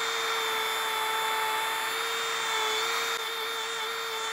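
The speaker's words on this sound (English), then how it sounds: "Just gonna hold my Dremel like this, and then I'm just gonna follow that radius" A Dremel rotary tool runs at steady high speed, bevelling the curved edge of a gun part. Its thin, constant whine holds level for the whole stretch with no pauses and no talk.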